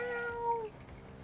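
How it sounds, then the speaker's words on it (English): A single short cat meow, close and clear, rising slightly then trailing off into quiet background noise within about a second. "Kitty, kitty."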